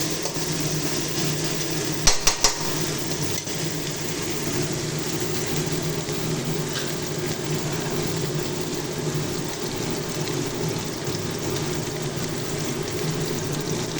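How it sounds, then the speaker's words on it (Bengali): Food frying in oil in a pan and being stirred, giving a steady, continuous sizzle close by, with a brief clatter of utensil against the pan early on. "যতক্ষণ না তেল ছেড়ে আসবে এটাকে নাড়তে হবে।"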